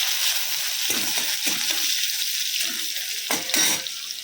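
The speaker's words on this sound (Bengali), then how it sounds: "তেল গরম হয়ে গেছে দিয়ে দিলাম শুকনো লঙ্কা আর দিয়ে দিলাম রসুন" Dried chillies and garlic crackle and sizzle in hot oil, a steady hiss broken by several louder bursts of spitting, heard up close with no voices.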